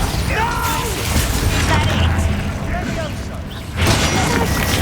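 A Bombarda blasting spell explodes in the Hogwarts Legacy game amid dense combat noise, with booming bursts and a loud blast near the end, under continuous talk.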